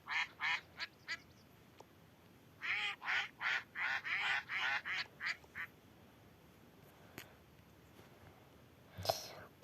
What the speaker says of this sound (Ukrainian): Це мої качки, я їх собі заказувала.